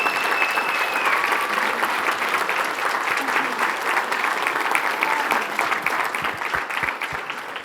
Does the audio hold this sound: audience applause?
yes